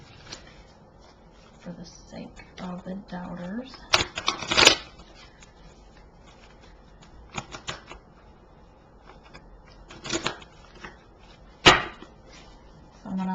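Tarot cards are shuffled in several bursts of riffling and slapping, with quiet gaps between them. A person speaks intermittently nearby.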